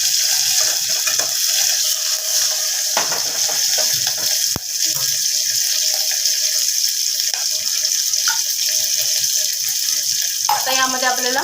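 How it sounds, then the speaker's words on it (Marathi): About a bowl of water is poured into a pan while making khaman dhokla in a home kitchen. It makes a steady, continuous splashing flow with a few clinks and a brief rattling clatter near the end. "आता यामध्ये आपल्याला 1 वाटी एवढं पाणी घालायचं आहे"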